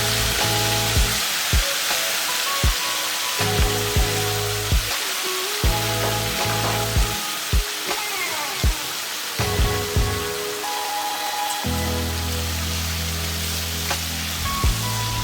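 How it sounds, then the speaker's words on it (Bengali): Pieces of silver carp sizzle in hot oil with a mustard-poppy seed masala, a steady crackling fry broken by occasional stirring knocks and scrapes, with a low background hum running underneath. "এবার মাছগুলোকে হালকা হালকা করে নাড়াচাড়া করে নেব"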